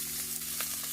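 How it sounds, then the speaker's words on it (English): Carrots and other vegetables sautéing in olive oil, with a steady close sizzle and crackle that persists evenly throughout. "I like to saute it a little bit to get the flavor out, so I'm gonna add like just about 2 teaspoons of olive oil"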